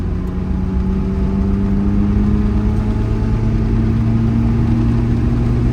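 An abandoned blue Volvo 242 with badly worn tires drives down the road, its engine a loud steady drone with road rumble underneath, continuous and close from inside the car.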